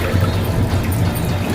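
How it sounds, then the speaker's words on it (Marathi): Water pours into simmering masala for a rassa curry, a brief, close, continuous gush and bubbling splash with no talk. "त्याच्यात पाणी टाकू,"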